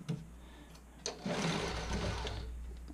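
A sewing machine stitches a bra fitting sample, starting with a few separate clicks and thumps, then settling into a steady, fairly quiet whirring run.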